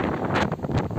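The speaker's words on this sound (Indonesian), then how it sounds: "Gunung Bekel tanggal 4 Juli sedang ada badai angin" Windstorm gusts on Mount Bekel buffet a Tarptent Metallight Starlite 2P tent, a loud continuous roar with pulsing surges and heavy wind rumble on the microphone.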